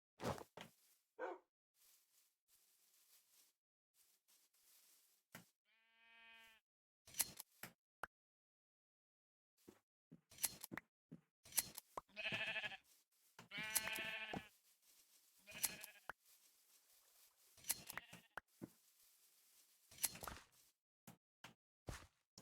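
Sheep bleat in the Minecraft modpack Sevtech Ages, with scattered short game bleats and other sound effects separated by silences.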